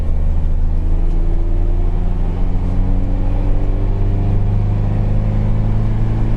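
Mazda Fighter pickup with a 2500 cc engine, a 2004 open-cab model, runs in second gear with a steady, loud low rumble and a faintly rising drone, continuous throughout and without talk.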